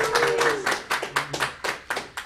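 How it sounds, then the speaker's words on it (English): A few people clap at a podcast recording, sharp separate hand claps close by, with some voice sounds mixed in briefly at the start. "So a nice big round of applause for these gentlemen."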